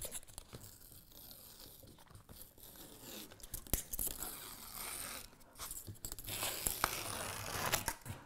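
The paper backing peels off a lampshade kit panel in a soft, close tearing and crinkling sound. It swells in louder rustling bursts toward the end, with no talk.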